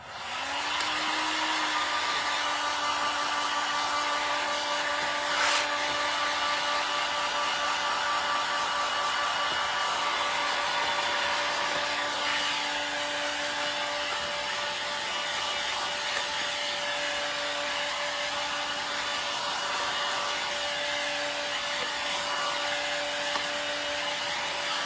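Hair dryer drying milk paint on salvaged wood whirs on with a rising whine, then runs steadily for around twenty seconds at moderate volume, its tone dipping briefly once.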